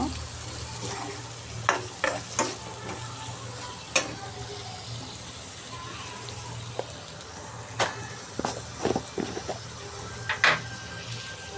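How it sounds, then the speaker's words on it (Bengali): Masala with tomatoes sizzles in a pan under a constant low frying hiss, while a spatula scrapes and knocks against the metal in irregular bursts throughout. "এবার ভালো করে একটু কষিয়ে নেব।"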